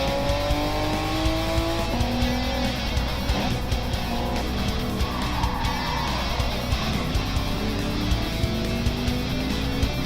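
Race car engines drone continuously through a racing video game, with rising and falling engine tones and tire squeal from several cars running close together on track, loud and steady throughout.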